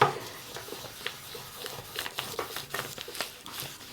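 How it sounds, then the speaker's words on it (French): A spoon rubbed and pressed over a sheet of paper laid on an inked printing plate, giving irregular crinkly scraping and rustling strokes close by, with soft pauses between them. "je prends la cuillère et j'appuie bien"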